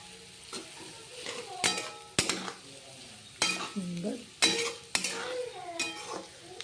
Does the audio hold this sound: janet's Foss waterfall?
no